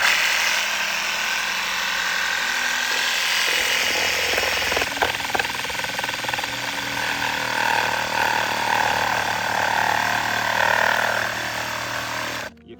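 A Sturm RS8820CL cordless reciprocating saw cutting, a loud, steady buzzing drone that runs throughout with only small dips, close up and without talk, cutting off abruptly at the end.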